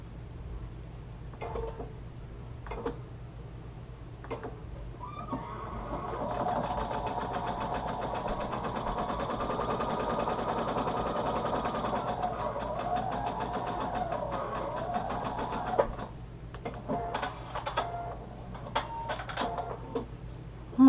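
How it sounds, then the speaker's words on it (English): A sewing machine runs steadily for about ten seconds, stitching along one side of a quilt block's fabric, with a few soft clicks and handling sounds before and after the continuous mechanical whir. "Go ahead and sew on this side as well."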